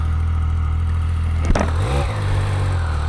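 A motorcycle engine idles loudly and close, then blips into a short rev midway before settling back to a rumbling idle.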